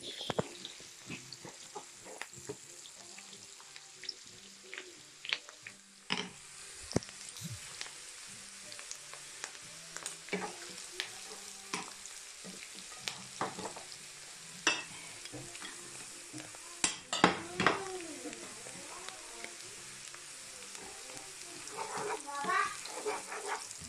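Spaghetti cooking in a home kitchen, with a steady frying sizzle and repeated scraping of a stirring utensil against the pan. Occasional louder clanks stand out, and faint voices are present in the background.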